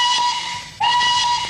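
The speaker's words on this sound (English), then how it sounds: "the Raggy Dolls woke up again to the sound of the factory hooter" A factory hooter blows a steady, loud steam-whistle tone with a hissing edge, briefly dipping and then resuming at full strength, heard alone.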